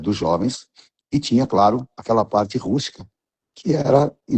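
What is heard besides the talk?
No everyday noises stand out.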